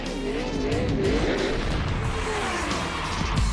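Race cars doing dual burnouts after a win at the 2009 Lucas Oil 150, heard as a loud, continuous engine roar with grinding tire noise, steady throughout and fairly close.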